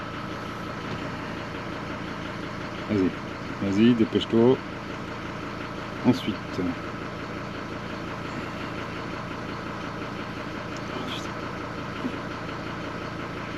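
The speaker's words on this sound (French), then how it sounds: "le moteur il tourne, c'est bien" A Mercedes W210 E290 with an OM602 diesel idles steadily in a workshop during injection pump work, a low even rumble throughout while people talk briefly nearby.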